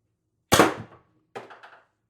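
Pistelle X-68 air gun powered by 12g CO2 cartridges firing one sharp, close shot that decays quickly, followed by a weaker rattling report, in otherwise silent surroundings.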